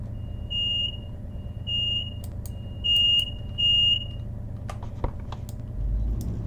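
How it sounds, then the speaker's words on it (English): Guard's dispatch buzzer in Train Simulator 2021 aboard a Class 220 Voyager on the Leeds lines: four short, clear electronic buzzes in an even rhythm, followed by a few clicks, over a low steady cab hum. "And wait for the guard's buzzer."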